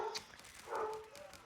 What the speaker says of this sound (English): My dog decided, it's time to go to bark.